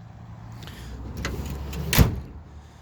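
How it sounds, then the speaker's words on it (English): The soft-open liftgate on a Toyota Tacoma pickup truck releases and swings slowly open outdoors, a short mechanical whir and creak ending in a single louder clunk near the end, with no talking. "It's a soft open liftgate, so just pop it open and it'll slowly open up for you."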